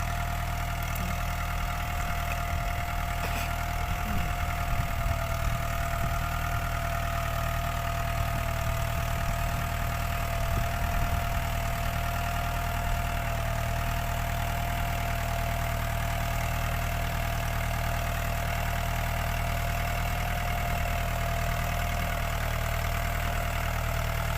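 A Case sugarcane harvester sits idling on a cane farm, its diesel engine a steady low drone with a constant tonal hum and faint knocking, unchanging and continuous for the whole stretch, without any speech.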